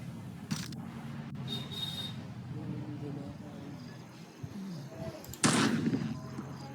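A shotgun fires in the horror video game Granny Chapter 2, with two sharp blasts, a brief one early and a louder one near the end, under a player's running commentary and quiet in-game ambience.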